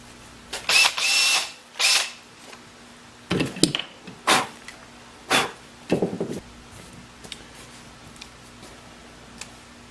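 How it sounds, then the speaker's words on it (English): A power drill boring into wood for cabinet door hinge holes whirs in a series of short bursts, spinning up and stopping repeatedly, with quiet pauses and faint clicks between. "we drill up until that collar touches that"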